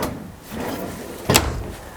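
Deep, spacious drawers in the bedroom of a 2015 Winnebago Journey 42E diesel motorhome slide along their runners with soft rumbles, then one shuts with a brief sharp knock, close and fairly quiet.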